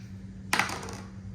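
Two dice are rolled for a board game, a brief cluster of clattering taps on a hard surface that quickly settles, close and fairly faint against a low hum.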